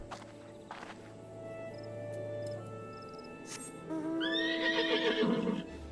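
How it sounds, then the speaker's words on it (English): A horse mount in Final Fantasy XIV gives a loud, drawn-out whinny near the end, after soft hoof steps and game chimes over quiet ambience. "hop on me horse."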